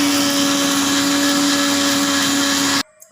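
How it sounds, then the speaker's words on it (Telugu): A kitchen mixer grinder runs steadily, grinding sugar and cinnamon sticks into powder with a loud, even whine and strong tonal hum throughout, then cuts off abruptly near the end. "పంచదార అలాగే దాల్చిన చెక్కని పొడి చేసుకుందాం గ్రైండ్ చేసుకొని మెత్తగా గ్రైండ్ గ్రైండ్ చేస్తున్నాం"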